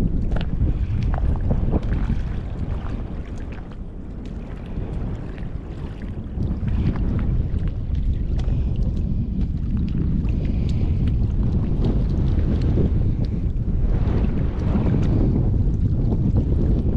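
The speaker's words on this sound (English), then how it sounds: "I don't know if you can hear me or not, the wind's horrible." Strong gusts batter a camera microphone at a Texas state park, a constant heavy rumbling roar of wind buffeting that never lets up.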